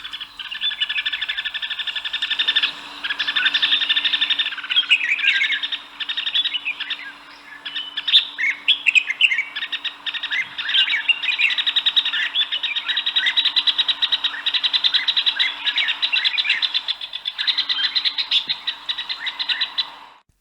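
Red-whiskered bulbuls call and chirp continuously and close by, in dense overlapping bursts of sweet whistled notes. A steady low hum runs underneath.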